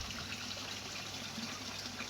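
A garden pond skimmer draws in surface water along with leaves and petals, making a steady, faint trickling and gurgling flow that continues evenly without pause.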